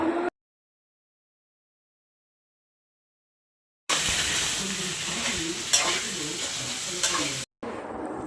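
Sliced onions and raw green banana fry in a pan while being stirred. The clip opens with a brief burst, falls silent for a few seconds, then settles into a steady close sizzle with scraping stirs that cuts off and resumes.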